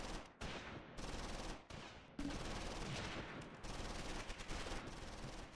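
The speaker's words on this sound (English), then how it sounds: "I'm hearing some grenade sounds" Battle sounds from the Close Combat WWII tactics game during a German elite assault toward Montmédy, with dense sustained gunfire and booming blasts that could be grenades, a few abrupt breaks between bursts, distant and fairly quiet.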